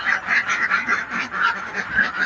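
Laying ducks on a farm quack and honk in a dense, continuous chorus, loud and close with overlapping nasal calls and no talking.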